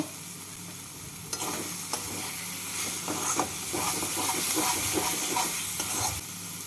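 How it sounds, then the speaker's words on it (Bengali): Fried spice paste with sugar is stirred in a hot pan, a constant hissing sizzle joined by scraping strokes that grow busier partway through, close and steady without speech. "চিনি দিয়ে নাড়াচাড়া করে নেব"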